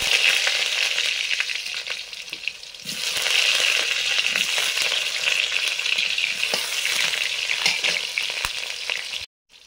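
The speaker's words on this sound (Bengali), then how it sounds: "সবজি কাটা ধোয়া সব হয়ে গেছে, এবারে ভেজে নিচ্ছি।" Cut vegetables such as brinjal frying in a pan, a steady bright sizzle that swells louder after a few seconds and continues close and alone before cutting off near the end.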